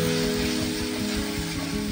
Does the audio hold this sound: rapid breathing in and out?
no